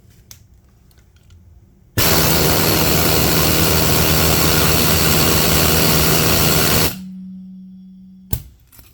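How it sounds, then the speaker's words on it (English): Pneumatic needle scaler running on compressed air, a loud dense buzzing rattle that starts abruptly, holds steady for about five seconds, then cuts off into a lower hiss of air before a sharp click. "needle scaler."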